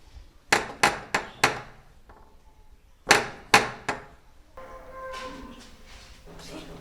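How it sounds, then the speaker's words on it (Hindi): Someone bangs hard on a door: four quick, loud knocks, a pause, then three more heavy thumps, followed by faint indoor sound. "एक घंटा से दरवाजा पीट रहा हूँ, सुनाई नहीं पड़ रहा है क्या?"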